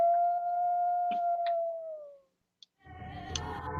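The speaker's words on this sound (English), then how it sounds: "Let's live and let howl." A single wolf gives one long, steady howl that holds a pure tone for about two seconds and then fades, with a few faint ticks over it. After a short silence, a dense burst of broadband sound follows.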